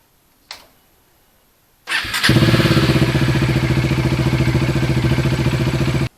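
A Bajaj Dominar 400 motorcycle engine starts after a brief click and then runs at a steady, loud idle during a coolant flush, close by, with no talk.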